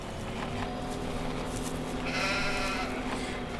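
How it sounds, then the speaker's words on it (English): Sheep bleat in Farming Simulator 2015 on the Sandy Bay map, with a wavering bleat rising out of a dense, steady engine-like rumble that carries on throughout. "A lot of sheep."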